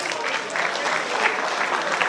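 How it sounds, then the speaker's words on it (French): Wedding reception guests applaud as the bride and groom are called onto the dance floor, a dense, even burst of clapping from a crowd that holds steady for the whole moment. "J'invite les mariés sur la piste, sur vos acclamations, s'il vous plaît."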